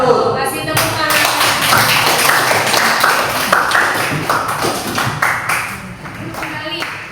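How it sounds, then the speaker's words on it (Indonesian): Students in a classroom clap after group presentations in an Islamic religious education lesson. Crisp, distinct hand claps from a small group run for several seconds, then thin out and fade toward the end. "Kasih tepuk tangan"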